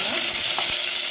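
Onions frying in hot oil along with mustard seeds and curry leaves, a brief steady sizzle with a faint stir partway through, close and fairly loud with no talk.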